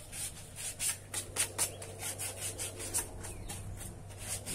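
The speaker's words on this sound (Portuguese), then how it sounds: "Tem que lixar todas nas pontas dos canos, né?" Sandpaper rubbing by hand over the ends of plastic pipes, a fast series of short scratchy strokes, close and moderately loud, with no one talking.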